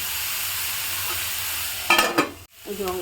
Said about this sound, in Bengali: লবণ দিয়ে নাড়াচাড়া করে এটা একদম ধিমে আঁচে দিয়ে রাখবো, যাতে এটা ভাজাও হবে আর সুসিদ্ধ হয়ে যাবে।